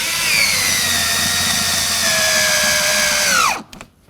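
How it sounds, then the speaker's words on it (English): Power drill driving two screws into the door handle area of a 1988-2002 GMC Sierra 1500 truck, a loud close whine that rises in pitch, holds for several seconds, then winds down and stops. "Now it's time to get these 2 screws into the handle area here."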